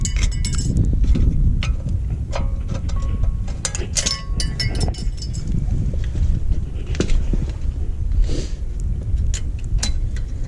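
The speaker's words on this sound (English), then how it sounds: "there's little metal keeper clips right there, and you just pop those out" Metal brake pad keeper clips on a 2013-or-later Ford Super Duty front brake get popped out, giving scattered sharp metallic clinks and clicks over low outdoor rumble and wind noise, close by, with no speech.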